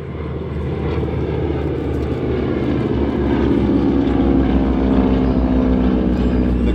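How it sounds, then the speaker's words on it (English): SNJ trainer and Mustang warbirds fly past at an air show, a loud, steady propeller-engine drone that holds throughout and swells slightly toward the end, with no talk. "The SNJ aircraft is calling in the Mustangs of 77 Squadron to attack a North Korean position."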